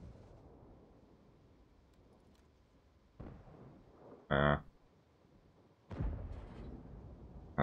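Tank cannon shots in a video game, a few dull booming blasts spread across several seconds, with one sharp bright burst in the middle, all fairly quiet under a low background rumble.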